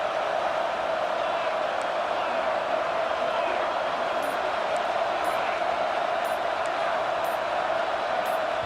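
A packed stadium crowd at a college football game roars steadily and loudly throughout, a dense, unbroken wall of noise with faint whistle-like accents near the end.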